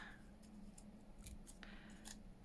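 Several quick, crisp snips of small scissors cutting paper, spaced irregularly, close and fairly quiet over a steady low hum.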